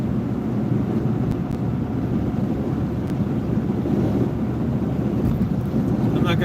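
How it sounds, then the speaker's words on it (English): Strong wind buffets the microphone in a continuous low, rumbling roar that holds steady throughout, with no talk over it. "And it's windy."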